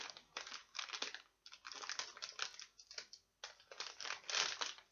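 Plastic packaging of an As Seen on TV comic bento box crinkling and rustling in bursts as it is cut and pulled open by hand, close and fairly quiet with no talking.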